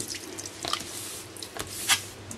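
Squid being rinsed at a sink, with soft drips and small splashes of water, plus a brief louder splash near the end, close by and fairly quiet.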